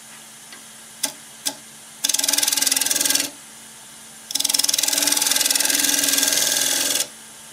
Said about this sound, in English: A little shear scraping on the outside, and I'm going to sand it up.